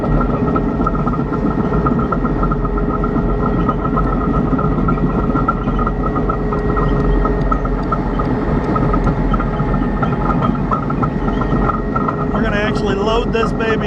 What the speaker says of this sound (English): Turns very, very well for how big of a tank it is.